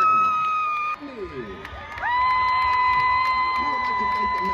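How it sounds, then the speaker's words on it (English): A crowd at an FAU homecoming event cheers for the newly named homecoming royalty with whoops and high shouts. The noise briefly dips near the start, then swells louder and stays strong to the end. "Now let's hear a great big round of applause for this year's royalty."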